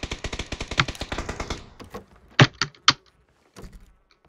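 Gunfire in the PUBG video game: a rapid automatic burst at first, then several sharper single shots with short gaps, fairly close.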